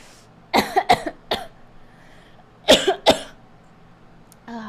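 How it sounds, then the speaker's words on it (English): A close person coughs in two bursts, three hacking coughs, a pause, then two more, with no talking. "See, I'm still fucking coughing."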